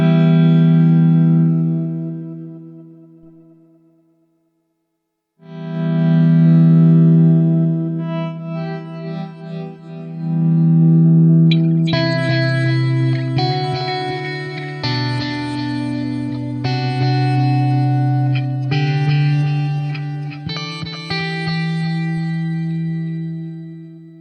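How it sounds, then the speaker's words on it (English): Electric guitar through a Strymon Timeline delay pedal in Ice mode: sustained low chords and notes that bloom into shimmering, repeating high echoes, played alone with a short pause before the swelling second phrase. "So this is Ice on the timeline"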